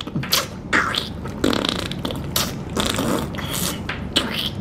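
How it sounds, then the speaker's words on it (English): Wet, squelchy scraping and tearing bursts repeat at an uneven rhythm, up close, like stringy pumpkin insides being pulled and scooped out. "Today I'm going to be plucking a pumpkin"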